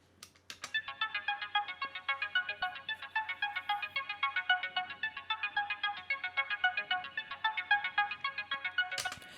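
A rapid, bright synth arpeggio pattern cycling steadily for several seconds, quiet and continuous, with a short click at the start and end.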